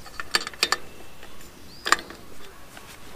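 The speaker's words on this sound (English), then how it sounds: "it's a ratchet is all it is" An electric fence strainer's ratchet clicks a few times as it is tightened, with quick sharp ticks in two short bursts, close and fairly faint, with no talking.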